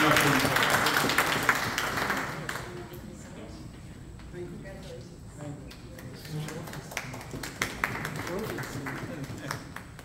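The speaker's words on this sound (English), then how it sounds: "round of applause" An audience at an Eid and community celebration applauds loudly at first. The clapping thins out after a couple of seconds, and a speaker's voice then carries over scattered claps and room noise.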